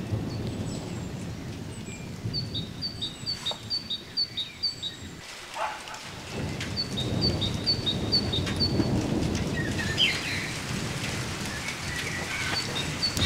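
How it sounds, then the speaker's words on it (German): Rain from a summer thunderstorm falls steadily, heard from a terrace, with patters on nearby surfaces and bird chirps repeating in the background; no thunder breaks through. "Und es regnet gerade so schön."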